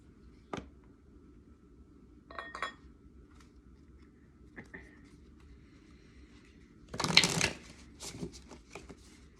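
Oracle cards are taken out and handled close by, with soft taps and rustles, a brief flurry of card shuffling near the end, and light clicks in a quiet space.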